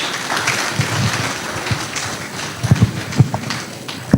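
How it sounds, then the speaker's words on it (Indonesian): Audience applause at a question-and-answer session with Rocky Gerung, a steady broadband wash of clapping with a few sharper claps standing out near the end. "beri tepuk tangan yang meriah"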